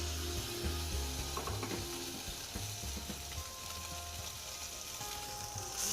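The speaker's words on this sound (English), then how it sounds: "It's very important so that we only want to sear the tuna." Tuna sears in a smoking-hot pan, giving a continuous faint sizzle with scattered crackles and a low background hum throughout.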